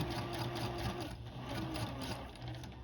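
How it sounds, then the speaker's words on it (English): A sewing machine runs a steady continuous stitch with its presser foot lowered, working a fabric pouch for sewing templates; the hum stays even and close, alone throughout. "Press the foot back down and continue stitching"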